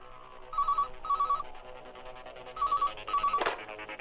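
A telephone rings for a radio call-in show, four bright electronic double trills in two pairs, close and clear, followed by a short thump, with no talking.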